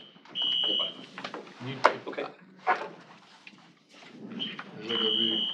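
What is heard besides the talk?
fire alarm going off in meeting room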